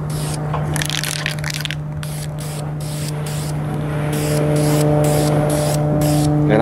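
Spray paint hisses in short bursts onto a car mirror part, the can's sprays starting and stopping repeatedly over a steady low hum, growing slightly louder toward the end.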